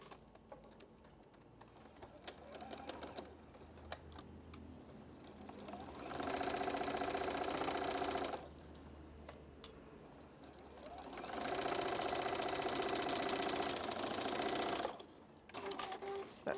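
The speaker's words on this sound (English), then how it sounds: "So I'll sew that one." Sewing machine stitching quilt patchwork pieces for a rail fence block, two sustained steady runs of rapid mechanical whirring, loud and close, between quieter handling noise and low background hum.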